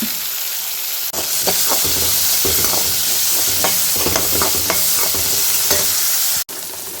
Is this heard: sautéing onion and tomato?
yes